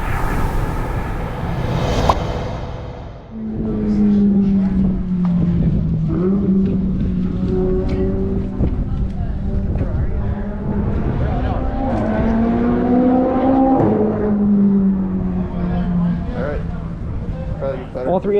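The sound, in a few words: Dodge Hellcat car drifting during ride-along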